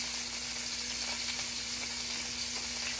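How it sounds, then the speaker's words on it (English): Onion and squash stir-fry together in a pan, giving a soft, even sizzle with faint crackles throughout and a low steady hum beneath, no one speaking. "Let it stir fry too."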